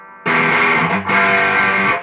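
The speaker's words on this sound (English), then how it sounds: "Like a vintage distortion." Electric guitar driven through a vintage Soviet-made distortion pedal, a thick saturated chord struck twice in quick succession, loud and close, with no talking.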